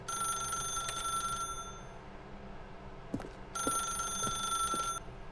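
Telephone ringing in The Stanley Parable Ultra Deluxe video game: two bursts of a steady bright electronic ring separated by a short pause with a few soft thuds, faint and alone.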